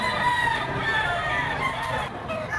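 A rooster crows nearby, a drawn-out, wavering call that carries over faint background noise.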